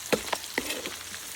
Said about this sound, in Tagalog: Pag okay na po yung bawang at sibuyas, haluin na po natin yan.